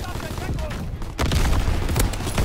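Rifle and gunfire volley in a war video game with a Type 38 rifle: a dense crackle of many shots that suddenly grows louder partway through, with shouted battlefield voices nearby.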